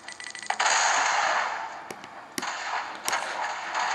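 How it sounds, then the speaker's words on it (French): A thrown bomb explodes in Uncharted: Golden Abyss on the PS Vita: a sudden loud blast swells into a rushing roar that slowly fades, with sharp gunshot-like cracks punctuating it. "Et là, ces enfoirés viennent de me lancer une bombe."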